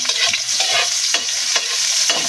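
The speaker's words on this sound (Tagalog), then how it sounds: "At dahil nga mainit na yung ating mantika, ilalagay ko na itong ating bawang." Garlic and onion fry in hot oil with a loud, steady sizzle, while repeated close scraping stirs sweep through the pan in an uneven rhythm.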